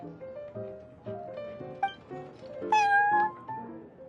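A cat in a card video game meows several times in a row, close and clear, set against soft background music, with one longer, louder meow near the end.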